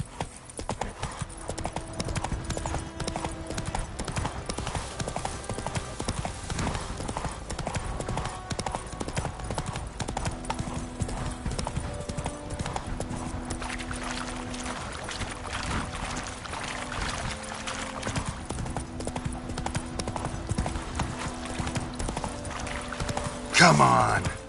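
Horse hooves galloping in The Witcher 3 video game: a steady, fast clip-clop under constant outdoor ambience and game music, with a voice talking over it.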